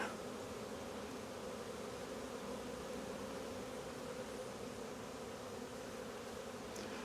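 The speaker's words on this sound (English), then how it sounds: "Absolute ton of bees." A dense mass of honey bees inside a hive box during a Demaree split inspection, making a continuous close, even buzzing drone with no pauses.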